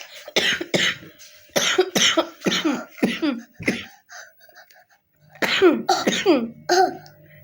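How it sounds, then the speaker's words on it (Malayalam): Repeated harsh coughing from a person who is ill with fever and body aches, bursts in quick clusters with short gaps and a brief pause midway, close and loud, with no speech. "എനിക്ക് ചുമ എന്നെ മാറണേ ഇല്ല"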